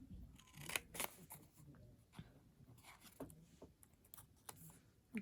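Scissors snip through a paper popsicle box template to cut its flaps, giving a series of sharp, irregular cuts close by while a person talks over them.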